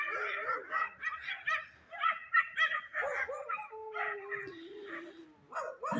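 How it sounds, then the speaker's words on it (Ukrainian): Several dogs bark and yip in an overlapping jumble at moderate distance, with a whining tone running beneath the steady barking. "ці сусідські собаки"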